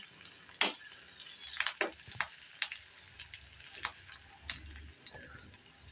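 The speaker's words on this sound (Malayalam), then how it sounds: "അപ്പം നമ്മുടെ ഉള്ളിയും കറിവേപ്പിൻ്റെ നല്ലോണം മൂത്ത് വന്നിട്ടുണ്ട്" Small onions and curry leaves frying in oil for a Kerala fish curry, a steady close sizzle with sharp crackles and pops scattered throughout, no one talking.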